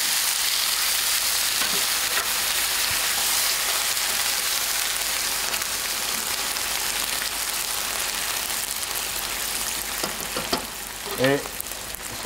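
Chicken sizzles hard in a pan on high heat just after white wine goes in, a steady loud crackling hiss throughout with a few brief clinks and scrapes near the end.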